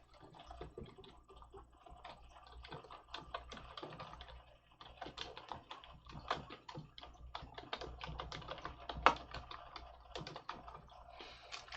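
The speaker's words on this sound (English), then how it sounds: "Let me see if I can type it." Fingers type on a computer keyboard at a steady pace, with quick, soft, close key clicks in uneven runs and short pauses.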